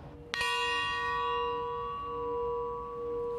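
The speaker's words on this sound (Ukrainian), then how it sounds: "Скільки разів лунатиме дзвін пам'яті сьогодні?" A single deep strike of a memorial bell in Ukraine rings out, then its rich overtones hum and slowly fade, resonating steadily for several seconds.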